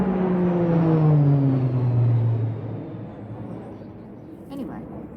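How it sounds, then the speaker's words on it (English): Propeller aircraft passing overhead above a garden polytunnel, a droning hum with a descending pitch that is loud at first and then fades steadily as the plane moves away, with outdoor background noise. "Plane's going over."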